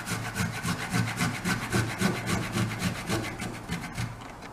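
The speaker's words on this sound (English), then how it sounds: "Now I am going to grate this ginger piece." A piece of ginger grated on a kitchen grater, rapid rhythmic scraping strokes repeating steadily, close and without talk.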